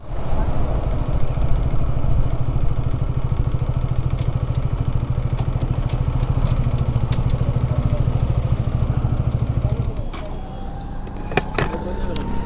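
A motorcycle rumbles at low speed behind a private car on a Bangladeshi road, a steady close engine drone that eases off near the end, with faint clicks and a passing horn-like tone.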